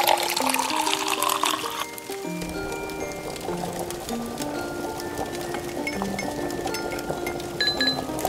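Water poured into a bowl with gelatin while making mini heart-shaped fruit jelly, a steady trickle and splash with light glass clinks, close and fairly quiet, soft music playing underneath.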